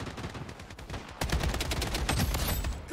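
Rapid automatic gunfire in Blood Strike, a quieter stretch of shots giving way to a louder, denser burst of fire that continues to the end.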